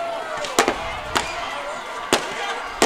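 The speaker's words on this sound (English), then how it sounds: "We've got a few fireworks over there." Fireworks at a high school varsity football game, four sharp distant pops spaced about half a second to a second apart over a faint crowd murmur.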